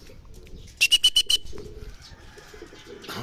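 Racing pigeons return home to the loft, a short burst of five bright, evenly spaced calls rising clearly above quiet outdoor ambience, followed by softer low murmurs and faint rustling.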